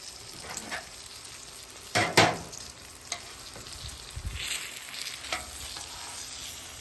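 Country fried chicken frying in oil on a hot griddle, a steady soft sizzle running throughout with a few sharper crackles and scraping stirs, fairly close and quiet.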